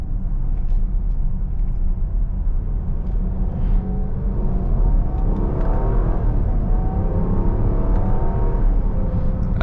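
A Jeep Grand Cherokee with a 5.7 V8 accelerates hard from inside the cabin, a loud continuous low engine rumble and whir that climbs steadily in pitch.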